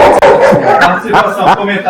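A dog barks in several short, sharp bursts spread across the moment, mixed in with a person talking steadily at close range.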